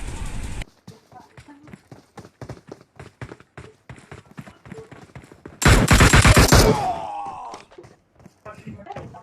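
Rapid bursts of automatic gunfire in the PUBG Mobile battle royale game: many sharp shots through the clip, then a loud, dense volley near the end, with players talking over the action.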